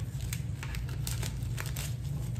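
A plastic bag crinkles softly and continuously as a folded iron-on vinyl t-shirt is slipped inside for packaging, a close, quiet rustle with small crisp bursts and no talking.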